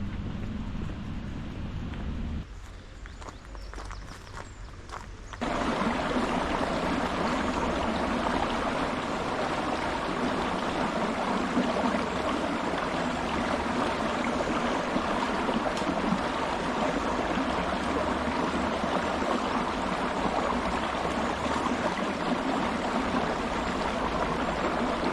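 A river flowing by a campsite near Fakenham, Norfolk, makes a steady, full rushing of water that dips briefly quieter early on, then stays constant and close with a faint wind-like hiss.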